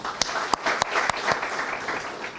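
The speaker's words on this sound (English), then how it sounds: "let's have a big round of applause for him" Audience applause for a guest speaker at a Canadian University of Bangladesh orientation program, a moderate crowd clapping steadily with a few sharp, louder claps standing out near the start.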